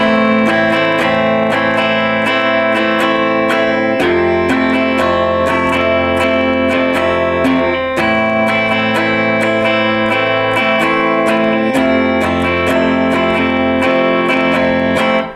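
Steady rhythmic strumming on a slightly distorted guitar, switching back and forth between two chords in an even pattern, loud and close.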